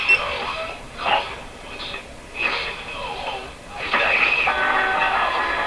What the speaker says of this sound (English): Well, what I'll do is I'll play the radio.